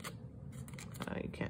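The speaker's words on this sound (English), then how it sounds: "These are just awful scissors. But I use them to cut up boxes" Cheap, worn scissors snipping through the side of a cardboard box, a few close crisp cuts and scraping rasps in quick succession, faint and close-up.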